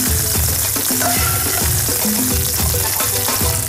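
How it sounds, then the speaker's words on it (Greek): Onions and vegetables sizzle and fry in leftover oil in a pan, a loud, dense, continuous crackle close up with faint stirring clatter and no talking. "κάνω και τα λαχανικά μου, έτσι τα κρεμμυδάκια, έτσι να τα μαράνω στο υπόλοιπο λάδι"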